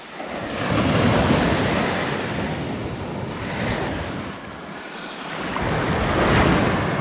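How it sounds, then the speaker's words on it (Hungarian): Ocean waves break and wash onto a Greek beach at Stavros, a loud, continuous roar of surf that swells and recedes, with wind buffeting the microphone and no voices. "És mekkora itt a hullámtér."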